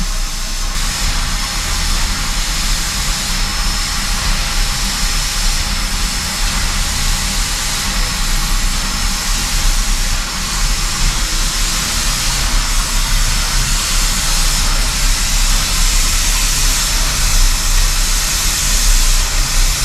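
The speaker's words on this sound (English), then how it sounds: "verify all safety functions during the warm-up of the engine prior to today's public run" A railway engine warming up before a public run on the Carson Colorado Railway, giving off a loud continuous hissing roar that stays steady and unbroken throughout.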